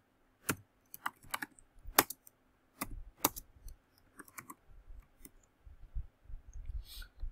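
Java code being typed on a computer keyboard: close, crisp key clicks in uneven bursts with short pauses, heard alone in a quiet room.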